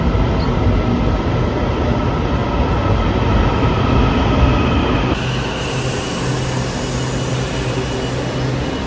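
A light rail train in Taiwan hums and rumbles steadily from inside, with a high electrical whine that cuts off partway and a lower motor drone continuing.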